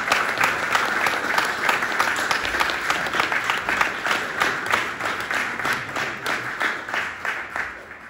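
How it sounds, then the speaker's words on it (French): An audience applauding at a talk on exoplanets, sustained dense clapping that keeps an even level for several seconds before tapering slightly, with no speech over it. "Je vous demande d'applaudir Monsieur Geoffrey Vanek."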